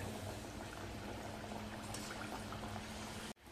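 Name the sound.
chana dal vadas deep-frying in oil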